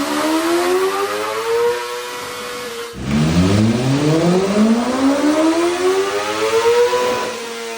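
A 2025 BMW S1000RR motorcycle revs hard on a dyno in second gear, a loud rising engine whine that climbs, drops with a shift, then sweeps upward again at high pitch.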